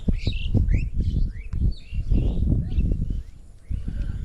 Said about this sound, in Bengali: পাখি ডাকার যে শব্দ সেটিও আমরা শুনতে পাচ্ছি।